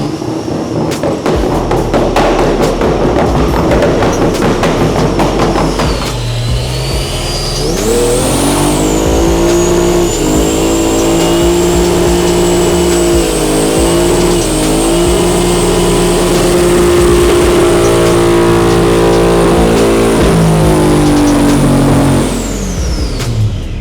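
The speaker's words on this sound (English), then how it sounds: "I know it's only a burnout" A Ford MK1 Escort does a burnout, its engine revving hard and holding at high revs with a rising whine and tire noise, loud and close, continuing for most of the stretch before dropping off.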